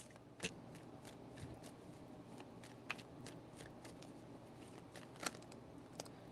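Tarot cards are shuffled quietly, soft rustling broken by a few sharp riffling snaps, with no voices.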